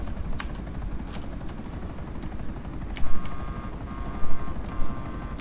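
A dying helicopter in GTA Online drones with a dense low rotor thump throughout, while sharp cracks like gunfire and an electronic beeping tone break in over it.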